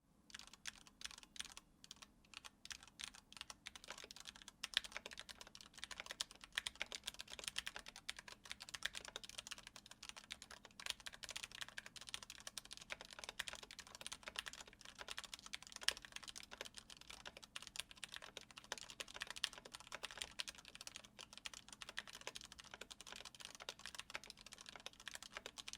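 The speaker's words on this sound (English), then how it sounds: "I have the Cherry MX Red switches, so we'll do this sound test so you could hear how they sound" Typing on a keyboard with Cherry MX Red switches: quiet, fast, steady key clicks that run without pause and with no talking.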